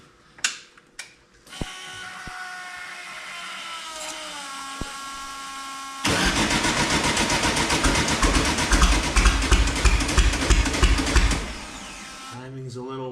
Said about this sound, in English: We put a new starter on it. We'll see if it turns any faster.